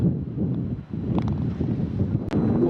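Strong wind buffets the microphone on a golf course, a loud, rumbling roar that gusts unevenly and dips briefly before surging again, with no voices heard.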